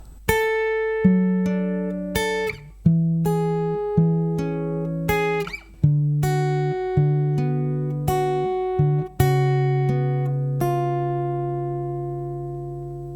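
Fingerstyle acoustic guitar plays a picked sequence, with a steady bass note under repeated plucked melody notes in clear, close phrases that ring and decay alone.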